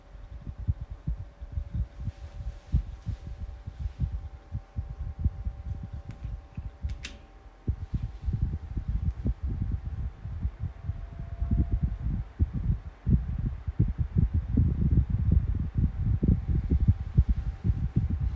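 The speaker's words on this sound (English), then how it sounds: "have the humming noise going, because I can sleep to the humming sound" A 12-inch Kool-Flo high velocity fan with a bearing issue hums steadily up close, with a low rhythmic thumping pulse running under the drone throughout.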